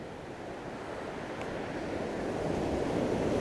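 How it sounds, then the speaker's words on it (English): Ocean waves break on a coastline, a steady broadband wash of surf that slowly swells louder, with wind noise and no voices. "you've just got to wait for these waves to come and go."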